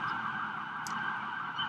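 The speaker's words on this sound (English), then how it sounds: "Sorry if you can hear the sirens." Emergency vehicle sirens wail outdoors in Montreal, a steady tone heard faintly through walls with no talking over it.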